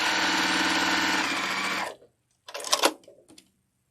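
A sewing machine stitches a quarter-inch seam on a quilt block, a loud, steady mechanical whir for about two seconds that stops abruptly, followed by a short clatter.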